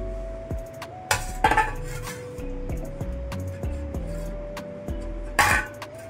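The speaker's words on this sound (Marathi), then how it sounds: "आपण डिश उलटी करून बघूया" A hot metal dish used for making kajal is lifted and flipped over, giving several sharp metallic clinks and scrapes against a hard surface, with a steady faint tone running underneath throughout.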